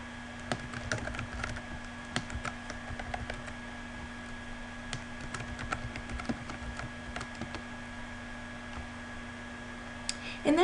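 Someone types a username and password on a computer keyboard, the soft, close key clicks coming in quick irregular bursts over a constant low electrical hum.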